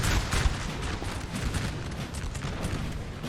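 Musket volleys in Napoleon Total War 3, Russian skirmishers firing in a battle at a small Flanders town: dense, rolling crackle of many shots, loud and continuous with heavier booms mixed in, no voices.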